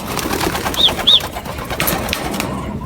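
A grizzle racing pigeon coos softly inside a loft, with a couple of short calls over ambient noise.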